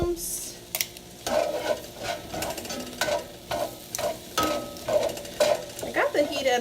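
Onions and mushrooms sauté in oil in a pan over medium-low heat, with a steady sizzle broken by repeated sharp scraping and stirring strokes of a utensil against the pan.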